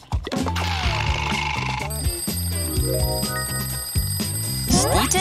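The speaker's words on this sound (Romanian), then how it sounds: "Știi ce înseamnă alarma aia?" An alarm rings as a reminder that it is time for children's vitamins, its steady high ringing tones running under background music and voices.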